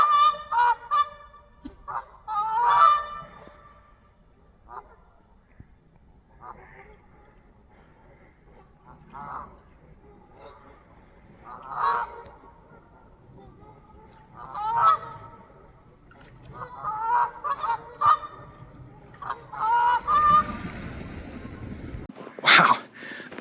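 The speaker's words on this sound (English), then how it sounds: "a lot of geese and ducks on this little river here and flying" Geese honk repeatedly on a small river in cold, fresh snow, some calls close and loud, others farther off, ending in a burst of flapping wings as birds take off.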